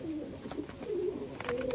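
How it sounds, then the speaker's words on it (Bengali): Pigeons cooing close by, low throaty warbling calls repeating over a faint background hiss, with a brief rustle near the end. "দেখুন পায়রা কত ছটফট করবে একটু দেখুন"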